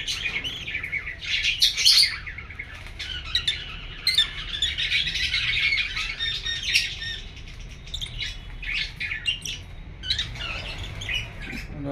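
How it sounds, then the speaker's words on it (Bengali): Many small birds in an indoor bird room chirp and squawk busily at close range, with fluttering wings and overlapping calls throughout. "পাখিগুলো"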